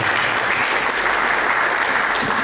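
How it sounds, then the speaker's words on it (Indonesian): Lively congregation applause in a church, a dense unbroken wash of many hands clapping at steady loudness for the whole stretch. "Lebih meriah lagi, mari kita beri tepuk tangan."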